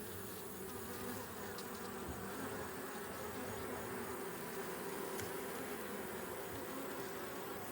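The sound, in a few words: agitated Africanized honeybees buzzing around the hive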